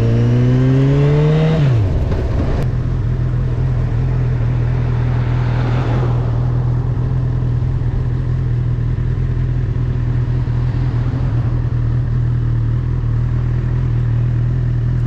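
A Honda CB1000R motorcycle engine revs up and pulls away in the rain, a loud rising whine at the start that settles into a steady close drone for the rest of the ride.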